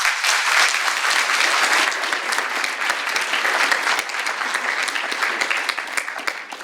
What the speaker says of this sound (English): please a round of applause for all of our guests here.